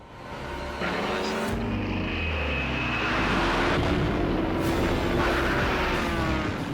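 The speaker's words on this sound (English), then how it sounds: "Air support for the ground forces was directed and targeted bombing by smaller aircraft like Typhoons." A WW2-era propeller aircraft such as a Typhoon fighter-bomber roars in, swelling from a low rumble into a loud sustained drone that grows and lingers overhead.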